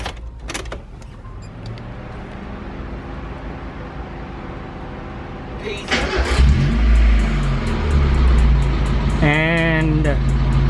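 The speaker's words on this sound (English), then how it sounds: "we gotta make sure the car starts right, so let's make sure it starts" A Mazda MX-5 Miata NA cranks and its engine catches, then runs at a steady idle close by after a quieter stretch of movement. A whining tone rises and falls near the end.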